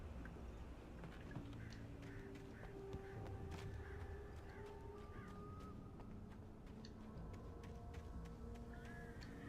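Bird ambience in the video game Alan Wake: scattered chirps and calls, some harsh and crow-like, repeat over a low steady background, quiet and distant with no speech.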